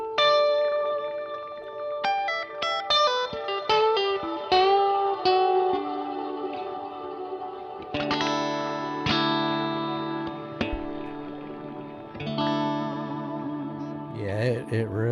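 Electric guitar through a Terra Echo ambient effects pedal, playing plucked notes and chords that bloom into long shimmering echo trails and wash together, with a few swelling, warbling passages near the end; steady and fairly loud, no talking.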